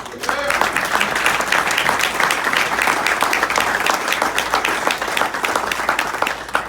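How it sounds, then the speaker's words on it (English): An audience at a speech gives a round of applause, with dense, continuous clapping and sharp individual claps standing out at a steady loudness for several seconds. "Let's give a round of applause."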